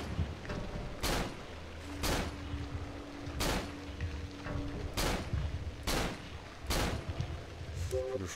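Single gunshots fired one at a time from a gun in the horror game Cry of Fear, about one a second, sharp and close against a dark ambient hum and faint game noises.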